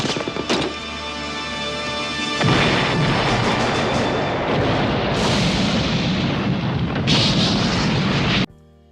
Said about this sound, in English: That's right. With a grenade.